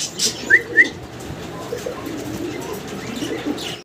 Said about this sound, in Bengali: এটা Indian Kashmiri lotion. Kashmiri lotion কবুতর।